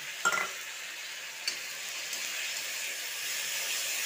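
Spice paste of ginger, cumin, green chilli and garlic hits a hot pan and sizzles loudly, settling into a steady, close hiss of frying after a brief clatter.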